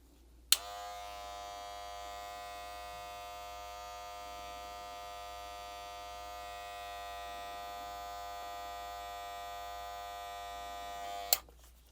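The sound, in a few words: Wahl Black Magic Clip hair clipper running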